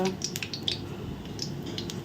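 Seasoning sputtering in hot oil in a cooking pan: faint crackles and sharp little pops scattered irregularly over a low background hiss.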